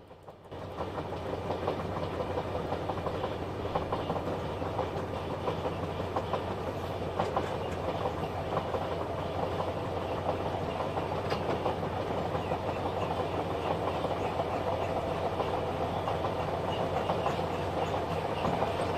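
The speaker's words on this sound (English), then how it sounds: "So see if we can find those wagon flats again, because they sounded quite good." TTA freight wagons, flat wagons among them, roll along rails in Train Simulator Classic, producing a continuous rumbling drone with faint rhythmic clicks and squeaks, close and steady from start to finish.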